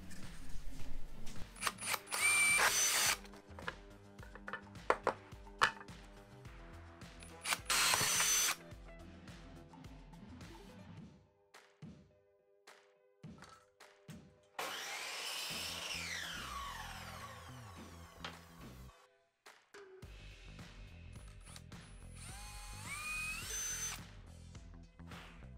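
A power drill boring two holes through a thin wooden board, with separate whirring bursts of high-speed drilling broken by pauses and handling clicks, close up and with no speech.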